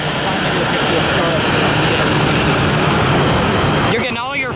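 Jet aircraft taxiing on an end-around taxiway at Atlanta airport, a loud steady broadband engine roar held throughout, with voices talking faintly over it near the end.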